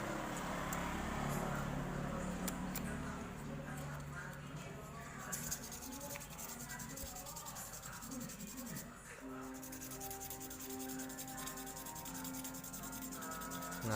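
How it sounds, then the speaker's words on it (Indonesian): Fine 500-grit sandpaper is rubbed over dried glue in steady scratchy strokes, close and quiet. Some low background noise sits behind it. "setelah kering lemnya kita amplas lagi menggunakan amplas yang halus ya,"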